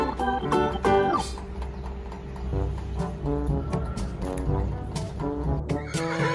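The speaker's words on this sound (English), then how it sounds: "Zebra." A zebra gives repeated whinnying, neigh-like calls mixed with snorts and a low rumble underneath, fairly close and steady through the whole stretch.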